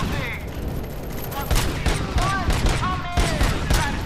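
Full-auto gunfire in the video game RoboCop: Rogue City, with loud rapid bursts of shots that come in waves, plus short sharp game effects and ricochet-like tones over continuous action.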